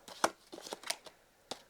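Tarot cards are shuffled by hand in a few quick, soft riffling bursts with short pauses between, close and fairly quiet.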